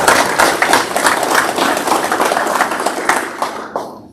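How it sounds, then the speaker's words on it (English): Applause at an American Legion post meeting: a room of people clap loudly and steadily for about four seconds before the clapping quickly dies away. "I think it deserves another round of applause"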